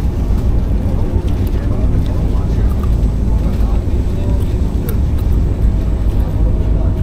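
The Dhauli Express rolls along its Puri–Shalimar run, a loud, steady rumble and rattle of the moving coach with wind buffeting, and voices talking over it.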